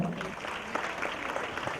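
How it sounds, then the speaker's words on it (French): An audience at a stand-up comedy show claps steadily in a dense, even wash of applause filling the whole moment. "Si vous voulez que je chante, applaudissez très fort."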